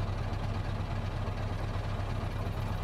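A truck engine idling in the Euro Truck Simulator 2 game, a steady low rumbling drone with a constant throb, moderately quiet and alone, no talk.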